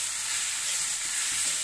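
Bathua and saag bhujia frying in a pan, a steady close hiss and sizzle with a few soft stirring scrapes underneath, continuous and fairly loud with no talking.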